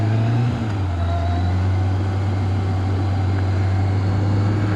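A 2002 Kawasaki ZX-6R motorcycle cruises on the road, its engine holding a steady low hum under wind rush, loud and continuous, with one brief shift in pitch near the start.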